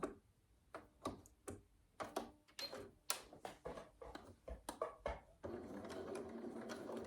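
A sewing machine stitches the back seam of a bodice in quick irregular bursts of needle clatter, then settles into one steady run at the end, close but fairly quiet.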